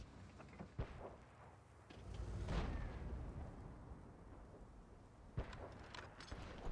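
Blind tank gunfire comes in during a World of Tanks battle: a sharp shot near 0.8 s, a heavier rumbling boom building around 2.5 s and slowly fading, then another crisp report near 5.4 s, each dull and somewhat distant.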